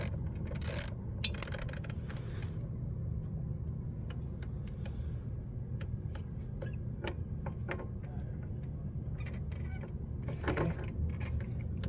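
Quiet clicking of a ratchet loosening a 10mm exhaust bolt on a Kawasaki Eliminator motorcycle, scattered short ticks and a brief burst of rapid clicks over a low steady background rumble.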